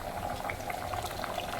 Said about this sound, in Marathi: हे बघा छान गाईज उकळी आलेली आहे